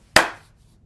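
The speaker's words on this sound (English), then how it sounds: "Lucy claps, and the actors freeze on stage." One crisp, loud hand clap on a theatre stage that rings out briefly and then fades into quiet.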